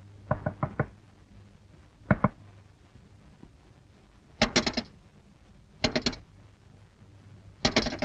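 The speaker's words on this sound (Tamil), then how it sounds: "என்னமா ரொம்ப நேரமா இந்த வீட்டு கதவை தட்டுறேன், திறக்கவே இல்லையே" Someone knocks on a house door in clustered bursts of sharp raps, several short groups spread over about eight seconds with quiet gaps between, close and loud with no voices.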